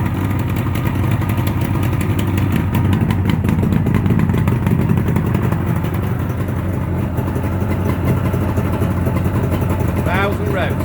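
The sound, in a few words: 1976 Suzuki GT750A motorcycle engine idling at first start-up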